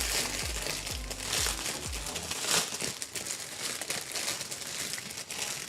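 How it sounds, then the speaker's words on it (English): Plastic packaging crinkles and crumples close by for several seconds in a busy, continuous rustle, with bursts of heavier crushing early on. "Sorry for the crinkling."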